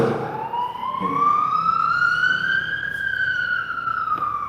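A siren wails in a rising then slowly falling sweep as an emergency vehicle passes, loud and steady with faint traffic rumble beneath.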